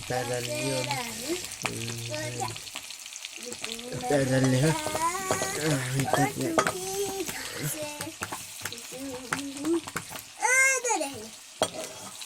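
Onion and meat frying in a pan with a steady sizzle, mixed with stirring, while several people, including a child, talk loudly over it through most of the stretch.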